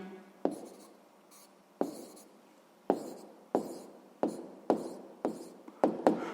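A math answer is written out by hand in a series of about nine crisp, close strokes and taps at a slightly uneven pace, with no talking over them.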